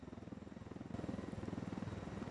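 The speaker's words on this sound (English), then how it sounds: "This helicopter has rockets." A helicopter's rotor thumps steadily in a fast, pulsing rhythm with a low engine drone, getting slightly louder partway through, in the video game Ghost Recon Wildlands.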